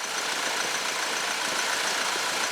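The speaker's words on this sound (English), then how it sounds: "Compressor running nicely." A 2007-2011 Honda CR-V's air conditioning compressor and radiator cooling fans run steadily under the bonnet, a constant close whirring drone with an engine idling beneath, even in level and unbroken throughout.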